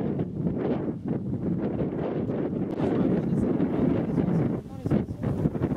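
Cold wind blowing steadily outdoors, a dense continuous rush buffeting the microphone throughout, with a brief dip near the end; voices may be faintly present beneath it.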